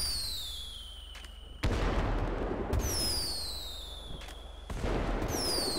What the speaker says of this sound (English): We're just shooting fireworks.